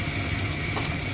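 Tap water runs steadily from a kitchen faucet into a sink while hands are washed before baking scones, a continuous close hiss with no voices.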